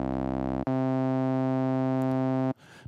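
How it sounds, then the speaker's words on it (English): An Access Virus synthesizer sawtooth patch runs through its vowel filter, giving a loud, steady, nasal vowel-like tone that shifts pitch after a short dip and then stops abruptly. "Now let's hear it just with the output of the vowel filter."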